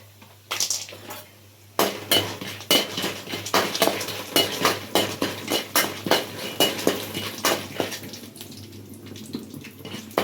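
Peanuts are stirred and fried in a pan for quick puliyogare, a utensil scraping and clinking against the metal in brisk, repeated strokes, close and fairly loud.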